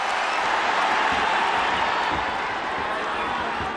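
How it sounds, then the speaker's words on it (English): A boxing arena crowd at the Naoya Inoue vs Nonito Donaire fight, a dense, loud roar of cheering and shouting that holds steady throughout, with a commentator's voice partly blended into the din. "but the crowd have responded."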